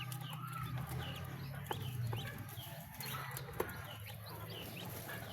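Chicks recently separated from their mother hen cluck and cheep close by in a crowded pen, a busy, continuous chatter of soft clucks and short peeps with no talking.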